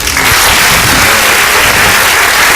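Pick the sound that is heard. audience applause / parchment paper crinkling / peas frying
audience applause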